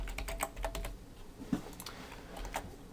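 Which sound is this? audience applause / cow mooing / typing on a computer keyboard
typing on a computer keyboard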